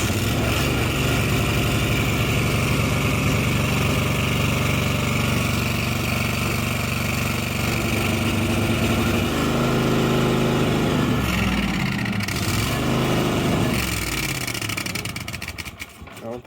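A neglected 1998 Yazoo YTKC22 three-wheel mower's engine cranks and runs loudly and steadily on fresh gas, with a rough rhythmic chug that dips and stutters near the end.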